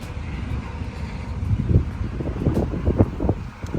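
Gusty Kansas wind buffets the microphone with low rumbling bursts, rising and falling over a few seconds, heard from inside or beside a moving van as a thunderstorm approaches.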